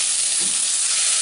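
Tomato dropped into frying onions in a pan gives a steady, close, loud hiss of sizzling oil with faint stirring underneath, unbroken and free of talk.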